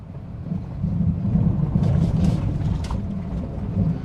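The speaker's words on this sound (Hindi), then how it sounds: "इंजन जितना वोकल हो रहा है उतनी मुझे स्पीड महसूस नहीं हो रही" A used Honda Jazz petrol hatchback accelerates through the gears, its engine a deep, steady droning rumble heard from inside the car, swelling slightly mid-run with some wind buffeting and no talk.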